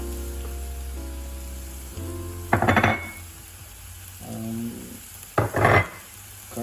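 Onions fry in a pan with a steady sizzle, broken by two bursts of scraping as a spoon stirs them, close and moderately loud, no talk.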